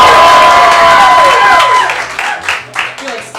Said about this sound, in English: show me what that sounds like